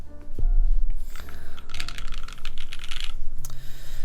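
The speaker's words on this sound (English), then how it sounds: "But it is a soft typing experience, and I like it. I actually like the sound." Typing on a custom AEBoards Constellation mechanical keyboard, a dense run of soft, muted keystrokes with occasional heavier spacebar presses, close and alone.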